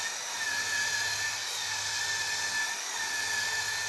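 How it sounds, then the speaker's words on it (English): An electric polisher fitted with a folded sanding fleece ring works a stainless steel surface, giving a steady high-pitched whir with a faint tonal whine, constant and unbroken throughout. "Then work on the finish of the polished area using the electrical polisher and the folded sanding"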